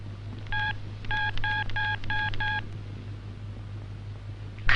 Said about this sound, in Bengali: ফোন লাগা।